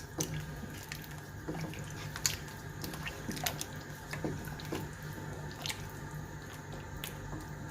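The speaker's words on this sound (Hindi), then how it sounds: "इन सारी चीज़ों को हम अब करेंगे मिक्स।" Chicken pieces are worked by hand in a bowl with red chili and sauces for chicken Manchurian, producing wet squishing and squelching sounds in an irregular rhythm, close and fairly quiet, with no speech.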